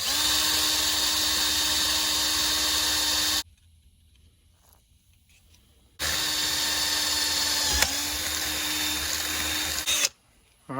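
A power drill bores out a spare tire carrier lock pin on a 1970s Ford pickup with lubricant: two long, loud, close whining bursts, broken by a few seconds of near silence, then a short restart at the end.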